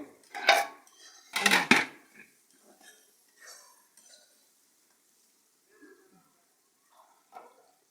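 Cow skin curry in a cooking pot over a clay stove is stirred with a metal utensil, giving two loud scraping clatters near the start and then sparse faint taps and scrapes with long quiet gaps.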